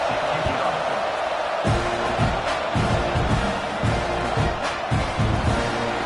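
Football stadium crowd in the video game CFB26, a steady dense roar with rising swells and cheering bursts that fill the whole stretch.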